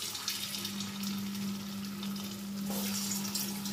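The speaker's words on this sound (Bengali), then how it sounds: "এবার ফ্লেমটাকে কমিয়ে কোপ্তাগুলো এক এক করে দিয়ে আমি ভেজে নেব" Paneer koftas sizzle in hot oil over a low gas flame, a continuous crackling hiss at moderate volume with a faint steady hum underneath and no voices.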